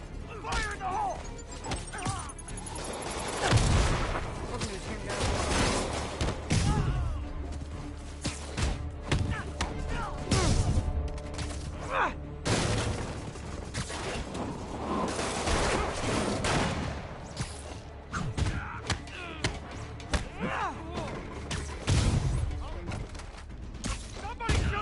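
Gunfire crackles in Marvel's Spider-Man on PS4, with repeated bursts of shots, thuds and crashes spread across the fight, mixed with game dialogue and character voices over a constant action backdrop.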